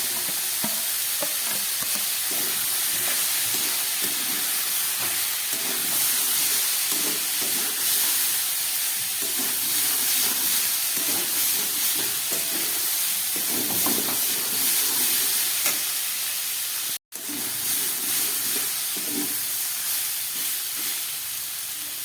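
Broccoli frying in a pan with pre-fried potatoes, peas and capsicum, giving a steady, close sizzle and hiss with stirring scrapes throughout and one brief dropout near the end.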